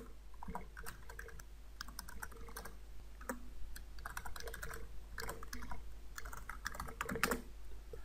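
Keys clatter steadily as Java code is typed on a computer keyboard, a quick uneven run of close clicks over a faint hum with no talking.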